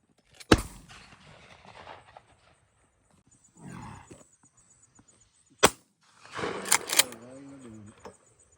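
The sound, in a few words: gunshot while dove hunting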